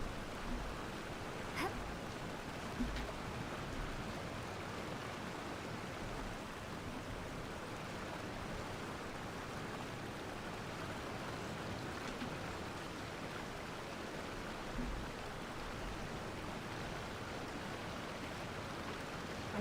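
A waterfall in the video game Genshin Impact gives a constant soft rushing hiss of falling water, faint and even from start to end.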